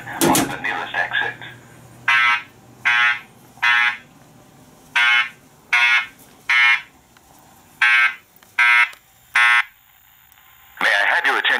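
Building fire alarm sounding a series of loud, regular electronic tone bursts, evenly spaced and separated by short gaps, following a brief burst of announcement voice at the start.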